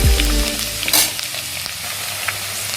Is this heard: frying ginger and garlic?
yes